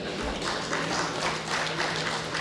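Audience applause at a Tamil comedy debate stage event, a steady spread of clapping from a modest crowd lasting a couple of seconds at moderate level, without speech over it.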